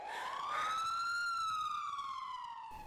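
An ambulance siren sounds alone in a single long, smooth wail that slowly rises and falls, steady and fairly close, ending abruptly.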